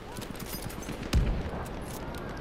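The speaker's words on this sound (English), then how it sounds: "Machine gun right there." Rapid burst of machine gun fire in Battlefield 1, a dense run of sharp shots with one heavier close blast partway through, over continuous battlefield noise.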